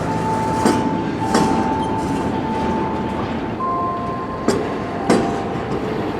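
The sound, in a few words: train locomotives passing over the Y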